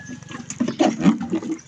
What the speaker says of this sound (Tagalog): Ayan o yung sprinkler ko.